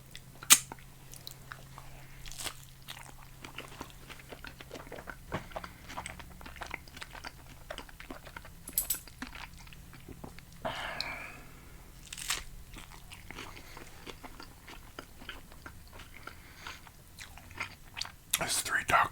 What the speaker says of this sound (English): I gotta finish eating the tacos first